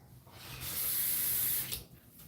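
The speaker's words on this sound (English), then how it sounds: "let me rinse this off" Water runs from a sink tap to rinse something off, a close splashing hiss that swells for about a second and then stops.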